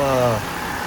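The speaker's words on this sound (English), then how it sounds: "doesn't even sound bad when it's just idling like this" The engine of a crashed Mercedes idles with a smooth, steady, close mechanical hum and no revving, then settles slightly quieter near the end.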